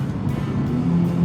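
A 2023 Nissan Z sports car drives through a corner, its engine a steady close hum with a slight rising tone near the end, no talk.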